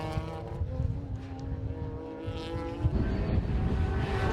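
Race cars compete in a Roadsports Championship event on the Anglesey Coastal circuit, engines whining with rising and falling tones as they pass at moderate distance and get louder toward the end.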